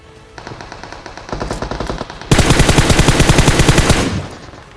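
Automatic gunfire in the PUBG Mobile battle royale game bursts in rapid repeating volleys, starting quieter and distant, then growing louder and closer into a sustained heavy stream before cutting off.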